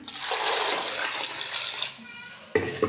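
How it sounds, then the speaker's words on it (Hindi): Water pours into a pressure cooker in a steady, splashing rush for about two seconds, then stops, followed by a short clank. "अब हम इसमें शामिल करेंगे पानी"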